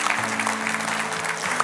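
A church congregation gives a round of applause, steady close clapping from many hands lasting under two seconds, with a sharper single clap near the end and no talk over it.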